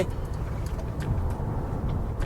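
A 2022 Mercedes-Benz GLA200 Progressive with a 1.3-litre turbo engine drives at speed, a steady low road and engine rumble filling the cabin with no pauses.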